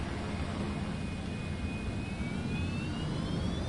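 Boeing 737 Max jet engines spooling up in Microsoft Flight Simulator 2024, a loud, steady roar with a rising whine that climbs in pitch throughout, continuous and close.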